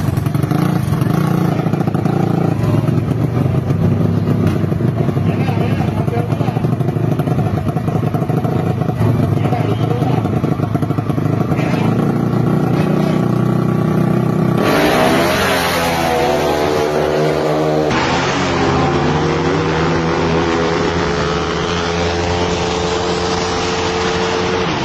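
A KTM motorcycle and a Yamaha Aerox scooter race side by side in an open-mix drag race in Tagum, their engines roaring loudly and steadily at high revs, with a sharp change in pitch partway through as they pass close by.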